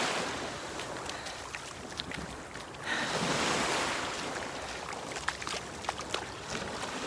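Ocean waves wash and rush around someone wading into the sea, a constant broad hiss with a louder swell midway, wind buffeting the microphone and small splashes throughout.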